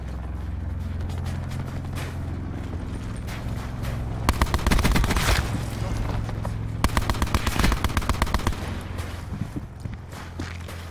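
The Titan weapon fires in Call of Duty: Black Ops 4, in rapid, loud bursts of repeated shots over several seconds, preceded by quieter in-game ambience.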